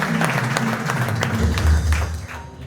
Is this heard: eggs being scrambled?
no